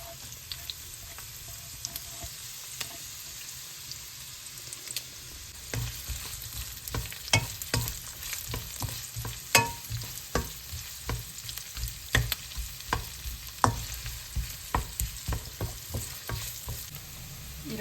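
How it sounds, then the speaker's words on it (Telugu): Sliced onion and a green chili frying in hot oil for a home-style mutton curry, a steady sizzle that grows busier partway through, with sharp crackles and pops spread over it, close and fairly loud, with no talking. "ఆయిల్ వేడెక్కింది వేడెక్కిన తర్వాత ఒక ఎర్రగడ్డ ఒక పచ్చిమిరపకాయ వేసుకుంటున్నాం"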